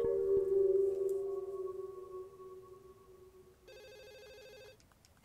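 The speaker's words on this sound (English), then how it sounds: "Shut up, telephone!" Telephone ringing in the horror game Ju-on The Grudge: a steady electronic ring tone sounds loud at first and slowly fades, then shifts to a brighter ringing burst near the end, with no talk.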